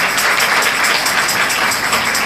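Church congregation at a Sunday service applauding, with a brief, even wash of clapping from many hands at moderate distance.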